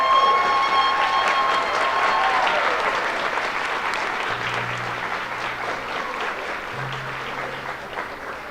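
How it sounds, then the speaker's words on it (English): A high school spring band concert audience applauds steadily with dense clapping that gradually fades, while a faint tone sounds briefly near the start. "So could we please have a round of applause for Mrs."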